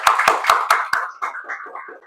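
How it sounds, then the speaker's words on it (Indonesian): An audience at an accounting lecture claps: five loud, evenly spaced claps come first, then a softer, looser patter of hands that fades out quickly. "beri tepuk tangan dulu untuk kita semua."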